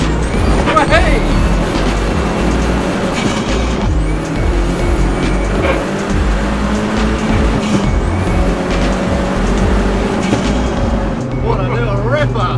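A VW Polo with a swapped-in Seat Cupra R 1.8T 20V engine accelerates hard, and its loud, continuous engine roar rises and shifts in pitch. Voices can be heard under the engine noise.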